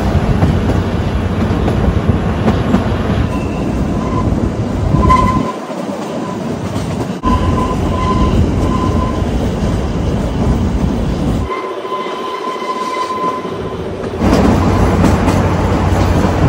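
A toy train on the Shimla mountain railway runs near Barog station, its steady wheel clatter and rumble loud and continuous, briefly dipping twice into quieter passages before picking back up.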